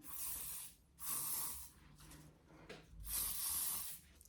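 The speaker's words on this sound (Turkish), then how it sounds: "Şu üste gitmeden benim bir sabitleme spreyim var. Şöyle yapıyorum." Makeup setting spray hisses in three bursts, a long one, a second of similar length and a final one, with quiet gaps between them. The bright, airy spray sounds close to the microphone.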